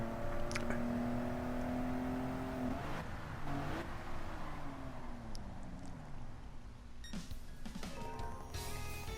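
A quick car's engine in Gran Turismo 7 revs and pulls away under acceleration, holding a steady whine that drops off and shifts pitch, with a few sharp clicks and a softer, quieter hum toward the end.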